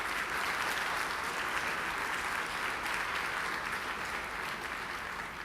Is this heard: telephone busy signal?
no